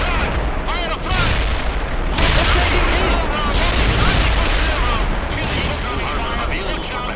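A World in Conflict battle rages with dense, continuous gunfire, frag rounds and heavy booms, loud and unbroken throughout, with radio-style unit voices faintly mixed in beneath the fighting.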